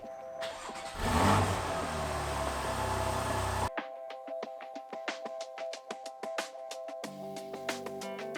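A Porsche 911 50th Anniversary Edition runs with a revving engine roar, then settles into a rough idle marked by rhythmic knocking and ticking, close by.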